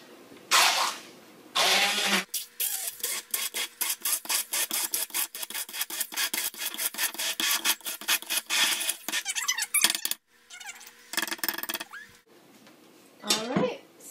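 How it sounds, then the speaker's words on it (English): A motorized immersion blender whirs in rapid pulsing bursts for several seconds, with scraping against a container, brief pauses, and restarts. "And I'm going to use my immersion blender again."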